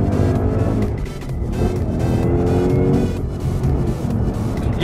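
A 2017 Ford Mustang GT500 with 670 horsepower pulls hard through second gear, its loud engine roar rising steadily and continuously for several seconds with no talking.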